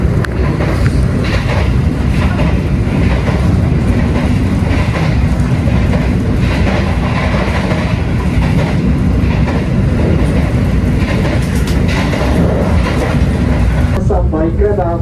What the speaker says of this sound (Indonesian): keretanya bakal berhenti ntar di stasiun Cirebon